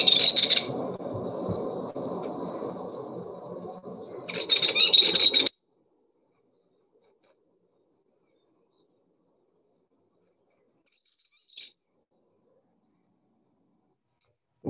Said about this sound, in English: The way I would describe that is being a bit like a bird singing that's got a couple of ball bearings stuck in its throat.